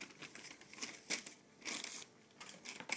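Elephant-print wrapping paper crinkles in quiet bursts while Air Jordan Cement 3 2011 sneakers are unboxed from Foot Locker, soft rustling swells coming and going close by, with no talk.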